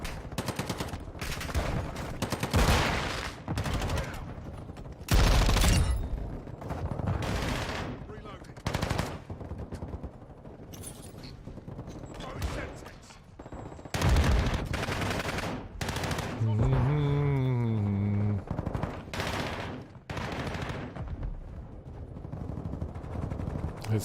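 Light machine gun fire in Modern Warfare II, with loud sustained automatic bursts and scattered gunshots throughout, plus other game noises and a rising-falling electronic tone partway through.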